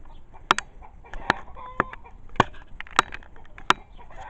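Silkie chickens cluck in a breeding pen with a string of sharp, repeated calls roughly every half second, close and fairly loud against a quiet outdoor background.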